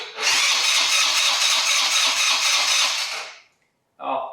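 4 wheeler ATV engine being cranked with the choke off, a loud rapid whirring starter with rhythmic pulses for about three seconds that fails to catch, then a short second crank attempt.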